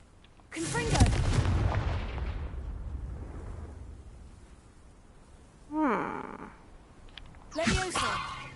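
Confringo fire spell going off in Hogwarts Legacy, a loud booming blast with a long rumbling decay, then two shorter magical bursts, with a voiced grunt and spell effects layered on top.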